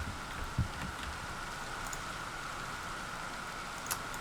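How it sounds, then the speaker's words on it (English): Rainfall in a modded Minecraft Skyfactory world, a steady hiss of falling rain at moderate volume, with a couple of brief faint clicks over it and no speech. "Some loud rain."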